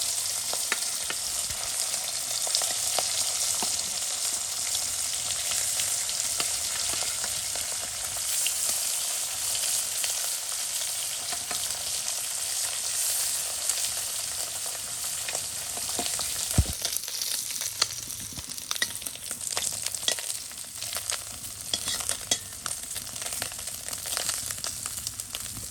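Small chanda fish fry in hot oil with a continuous close, crackling sizzle and spatter, steady throughout with no voices.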